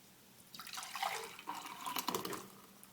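Frothy blended raw superfood juice pours out of a blender in a short, splashy, gurgling stream, close and moderately loud, rising and falling over a few seconds with no speech.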